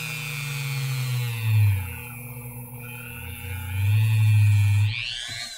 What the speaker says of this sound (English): I'm just going to heat it up a little bit by grinding it against this scrap piece